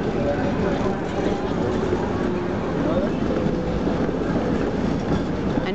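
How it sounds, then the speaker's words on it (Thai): City tram in Amsterdam rolling past with steady rumbling and clattering wheels on the rails, loud and close over a continuous street background, while someone speaks over it. "เป็นรถรางภายในเมืองนะคะ"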